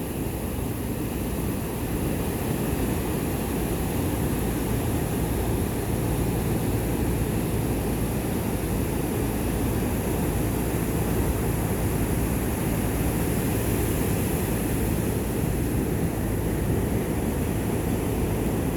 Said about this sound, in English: Looks like a large, expensive helicopter